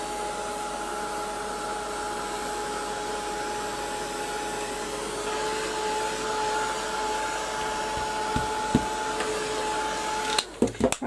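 Heat gun blowing steadily while drying a canvas tote bag, a constant near whine that runs nearly the whole clip before a few knocks and handling sounds at the end.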